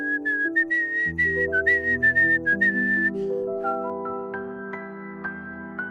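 A bright, clear whistled melody of classical music plays over sustained orchestral chords. It is a lilting phrase of sliding notes that fades into softer backing strings.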